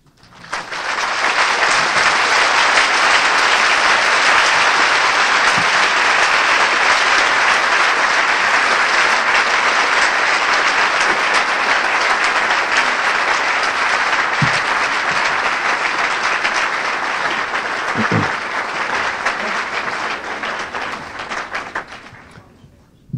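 A conference audience claps in a loud, sustained, even wash of applause lasting over twenty seconds before tapering off at the end.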